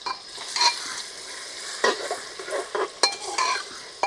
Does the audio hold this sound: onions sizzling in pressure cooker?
yes